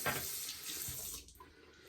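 Tap water running into a bathroom sink during a wet shave, a steady close splashing stream that cuts off partway and leaves a faint drip and room hush.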